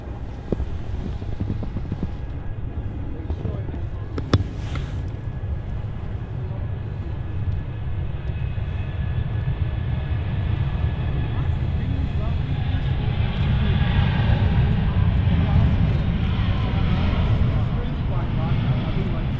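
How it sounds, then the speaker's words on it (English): A Virgin Boeing 787 Dreamliner takes off at Manchester Airport, its distant low jet roar slowly swelling under gusty wind buffeting. "Here goes the Virgin Dreamliner."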